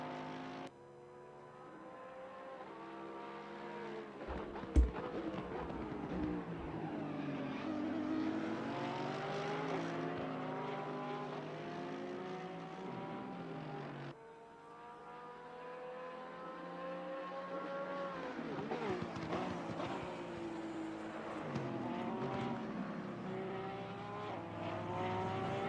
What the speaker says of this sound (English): Hear those engines.